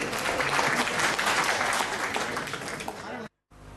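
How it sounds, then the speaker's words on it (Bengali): A crowd at a community organization's ninth anniversary event gives a sustained round of applause for an honoured guest, thick and even clapping that fades slightly before cutting off abruptly. "তো মহসিন ভাইয়ের জন্য আবার একটা হাততালি"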